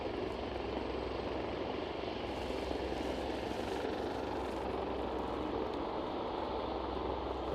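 Loganair ATR turboprop departing Aberdeen, a moderate, steady engine drone with a propeller-like rumble and a hissy upper band that shifts midway, heard from a distance without talk.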